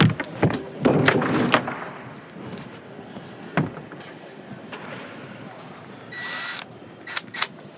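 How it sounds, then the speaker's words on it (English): A power drill turns a snare drum's tension rods during tuning for a metal band's kit, giving short, sharp whirring bursts among knocks and handling clatter, with a longer burst near the end. "I'm gonna grab my drill."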